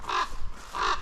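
Ravens call near a gamekeepers' feeding spot, two loud, harsh croaking caws separated by a short pause, close by with no talk.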